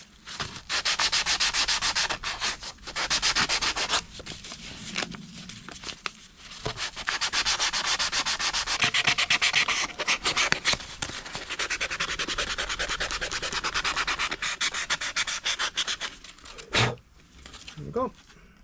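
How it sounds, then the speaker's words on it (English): Wet and dry paper scrubs across the face of a Classic Mini Cooper cylinder head, making a close, continuous rasping sanding sound in long strokes with brief pauses. "now I'm just going to give it a quick clean with a bit of wet and dry"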